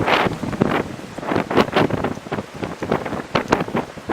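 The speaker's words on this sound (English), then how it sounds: "That wind is something else." Strong wind buffets the microphone in a park in continuous roaring gusts, loud and close, with no voices.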